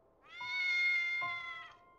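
A cat meows twice in close succession, clear tonal cries rising and holding, fairly quiet but alone against a silent background.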